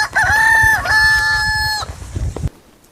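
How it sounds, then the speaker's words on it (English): Farm rooster belting out a loud, close cock-a-doodle-doo in two drawn-out phrases, followed by a few chickens clucking briefly before the sound cuts off. "And now there was a lot of clucking and crowing too"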